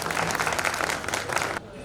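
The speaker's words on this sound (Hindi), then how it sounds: "जरा ताली बजाकर स्वागत कर दो।" An audience at a Lodha Samaj Shiksha Foundation event in Indore claps in a brief, dense burst of applause that welcomes the foundation's president and then cuts off abruptly.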